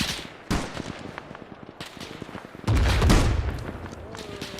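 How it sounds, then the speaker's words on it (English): Tracer gunfire snapping over a trench in the military game Arma, sharp bursts of shots with a heavy blast or rumble midway, fairly close amid battlefield noise. "that tracer's nicking right over the top of the trench"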